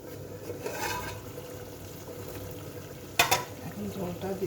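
Kechki fish curry simmers under a covered pot, with a steady low bubbling and a faint background hiss. A sharp clatter of the pot or lid comes near the end. There is no speech.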